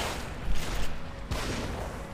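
An explosive crossbow bolt fires and blasts in The Evil Within, a loud, rough burst with a second crack a moment later, set against a noisy game backdrop.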